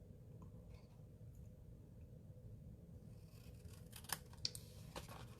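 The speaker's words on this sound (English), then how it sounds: "I'm going to cut on an angle to that corner" Scissors snip through folded cardstock at an angle across a corner, quiet and close, with a soft scraping lead-in and a few sharp, distinct cuts near the end.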